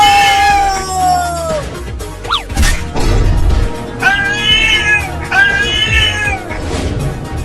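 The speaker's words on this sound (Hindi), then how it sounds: "तो एक खतरनाक बिल्ली घर में कैसे आ गई?" Cartoon cat meowing and caterwauling in a run of drawn-out, wavering cries, loud and close, broken by a sharp crash-like hit in the middle. No talk.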